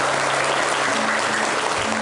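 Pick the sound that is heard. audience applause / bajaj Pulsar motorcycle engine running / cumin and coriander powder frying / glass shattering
audience applause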